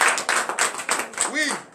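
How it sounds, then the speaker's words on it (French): A congregation at a morning prayer service in Comè, Benin claps in a quick, rhythmic beat. Voices call out over the clapping and the many hands keep an even pulse throughout. "Merci Seigneur Jésus, donnez l'acclamation à Jésus."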